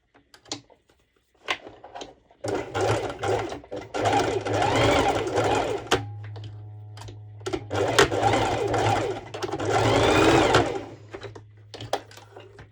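A sewing machine stitches a long-sleeve crop top in bursts of fast, even whirring, with short pauses between runs and a steady low motor hum underneath.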